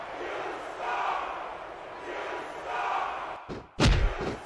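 Wrestling arena crowd noise from the WWE SVR 2006 video game, a swelling roar and murmur rising and falling in waves, ending with a sharp thud or impact.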